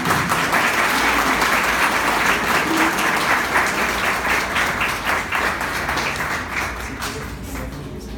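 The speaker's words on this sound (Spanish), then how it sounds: "a quien le pido la recibamos con un caluroso aplauso" A conference audience gives a steady, warm round of applause for the next speaker, dense clapping that carries on for several seconds and slowly tapers off.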